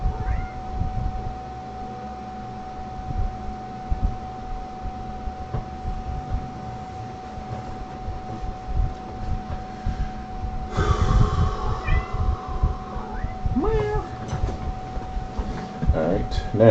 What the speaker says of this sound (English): Baby kitty.